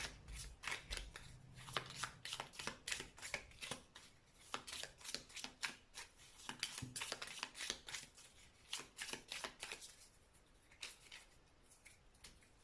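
New Petit Lenormand cards being shuffled by hand, a steady run of quick, crisp riffling slaps up close that eases off near the end, with no talking.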